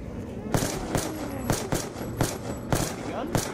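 Gunfire from a weapon in Black Ops 2 Zombies that fires two bullets per shot, heard as about seven sharp, loud shots spaced irregularly over a busy game background.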